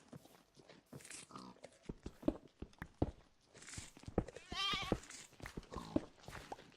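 Goats in the Minecraft video game bleat in short wavering cries among a busy patter of blocky footsteps and clicks, moderately close and fairly quiet overall.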